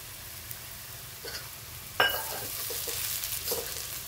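Crushed peanuts being stirred into fried onions in a pan, a soft sizzle under the scrapes and knocks of a spoon, with one sharper clatter midway.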